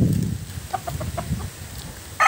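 Chickens cluck in short, repeated calls on a Filipino backyard poultry farm, with a rooster-like squawk briefly, fairly close over low outdoor rumble.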